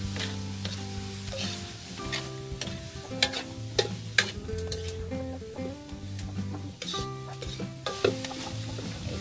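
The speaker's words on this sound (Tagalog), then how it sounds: "Para masarap yung ating sinigang, ginisa po natin yung miso." Miso is sautéed in a pot for seafood sinigang, giving a soft steady sizzle with stirring scrapes and occasional clinks against the pot, heard close over a faint background of music.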